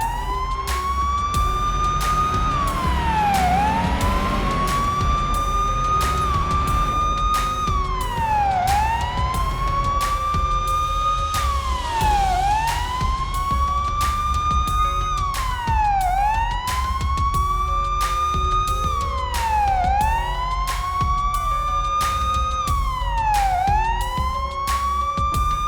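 A police car siren in the Police Simulator: Patrol Officers video game, loud and continuous, wailing up and down in repeated rising and falling sweeps over a low engine rumble.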